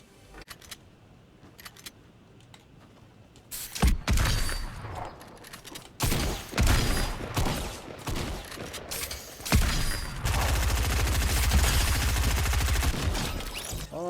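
Shotgun fire rings out in a video game firefight, with a quiet stretch followed by loud, heavy blasts in quick succession and a long burst of continuous gunfire near the end.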